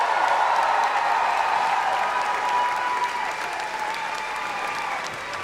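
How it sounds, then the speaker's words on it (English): A large rally crowd in Charleston, South Carolina applauds warmly as a speaker takes the stage, sustained dense clapping with a faint murmur of cheering, easing slightly toward the end. "Give her a warm round of applause, ladies and gentlemen"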